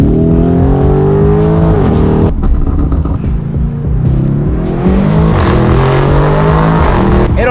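A widebody Lamborghini Urus engine accelerating hard close by, rising harmonic roar through gear changes, a brief dip midway then climbing again, loud and continuous.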